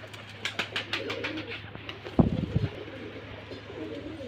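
Pigeons coo in soft, low, throaty bursts, with a loud close flutter midway and faint chirps and background murmur around them.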